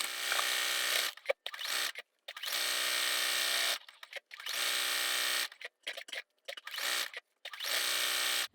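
A sewing machine stay-stitches bias tape letters onto a quilt, running in loud steady bursts of rapid stitching separated by short pauses, close up with no talking.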